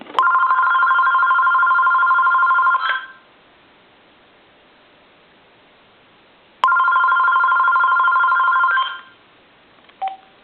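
AT&T SL82418 cordless telephone ringing on a test analyzer: two long electronic ring bursts of about three seconds each, separated by silence, followed by a short faint beep.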